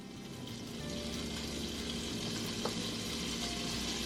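Three-quarters of a stick of butter melts in a pan for turkey gravy, giving a low, continuous sizzle that holds steady for several seconds with one small tap partway through.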